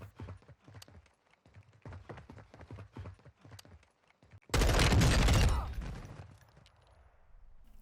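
A burst of rapid gunfire from a cheater shooting at a legit player in the video game Warzone 2, loud and dense for about a second and a half before trailing off, preceded by a run of quieter rhythmic clicks and taps.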